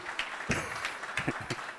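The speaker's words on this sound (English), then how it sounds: "Maybe you can say some applause for them there." Conference audience clapping for the AV crew running video and audio at a software design talk, a short uneven burst of hand claps in a hall, moderately loud.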